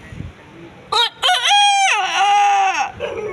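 A human voice mimics a country chicken with a few short clucking bursts, then a long, loud, crow-like call that sags in pitch at the end, alone over faint background hiss.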